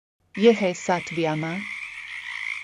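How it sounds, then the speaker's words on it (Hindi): Frogs croak by night over paddy fields. A few loud, raspy calls come first, then a thinner, sustained trilling chorus carries on, and a voice speaks over the opening. "तो मेंढकों ने अपने गाने शुरू किए।"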